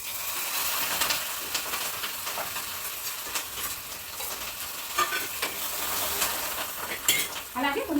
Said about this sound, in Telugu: కొన్ని తర్వాత పచ్చిమిర్చిని కాలించి